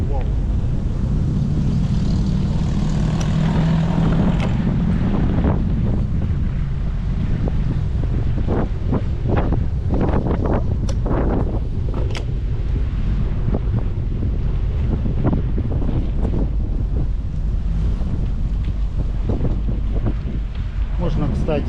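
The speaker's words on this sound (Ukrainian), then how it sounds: "Все, вітер тепер в лице." Heavy wind buffets the microphone of a moving bicycle in a constant roaring rush, with gusty thumps and rattles throughout.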